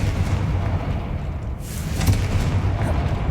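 A Confringo explosive spell blast in a video game, a loud rumbling boom with crackling debris that fills the whole moment without pause.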